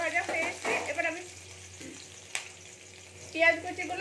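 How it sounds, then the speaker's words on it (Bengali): Finely chopped onions frying in oil, with a close, uneven sizzle that swells and fades as a spatula stirs and scrapes the pan, including one sharp knock midway. "পেঁয়াজ কুচিগুলো দিয়ে দিলাম।"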